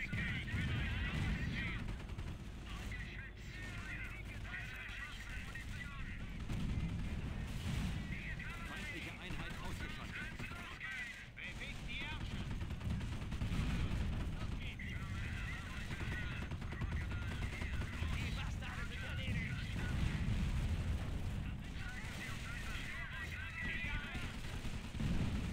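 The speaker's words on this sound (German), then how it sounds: "weil die blöde Artillerie immer gern ein bisschen am rumsplashen ist" Artillery and gunfire from the World War II strategy game Company of Heroes rumble on continuously, with dense bursts of shots and booming blasts under someone talking in German.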